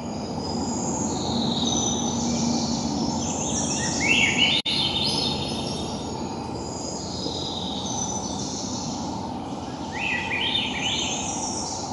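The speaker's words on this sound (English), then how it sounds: "So that was the song of the Swainson's thrush." A recorded Swainson's thrush sings repeated upward-spiraling flute-like phrases over a steady low rumble, with a brief click partway through; the song is clear but sits over constant background noise.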